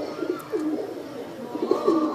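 A prized king pigeon in a home loft coos in soft, rolling phrases, two clear bursts of throaty cooing close by with no talk over them.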